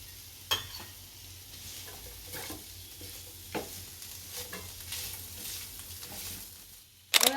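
Chillies and carrots sautéed in a pan for a crispy leftover-roti snack, with a steady low sizzle broken by intermittent scraping stirs and a louder clatter at the end.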